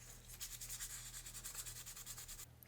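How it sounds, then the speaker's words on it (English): Dried body putty on a van is hand-sanded with quick, even back-and-forth strokes, a soft rhythmic scratching heard up close but quietly over a low steady hum, with no talking. "just give this a little bit of a sanding here"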